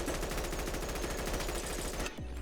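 Rapid automatic fire from an M4 rifle in a Bonelab mod for a video game, a dense stream of evenly spaced shots that stops abruptly near the end and leaves a brief ringing tail.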